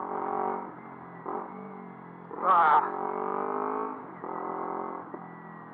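A road vehicle accelerates hard nearby, its engine note rising and falling in pitch with surges of revving, loud and close, with a brief voice heard once.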